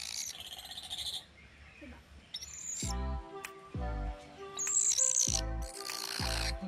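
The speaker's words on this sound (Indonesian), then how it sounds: "Black lori." A black lory parrot calls at a bird park amid ambient chatter, giving several loud, harsh bursts with stacked tones between about 3 and 6.5 seconds, mixed with other bird chirps in the background.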